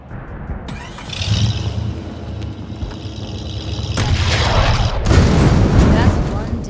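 Gunfire in the PC video game Ram Pressure, with booming shots and bursts over a rumbling engine-like drone, growing louder toward the end while a voice shouts over it.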